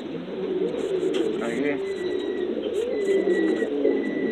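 Pigeons coo in a Cuban pigeon loft, soft repeated low murmurs layered over one another with a few higher chirps, while someone talks nearby throughout.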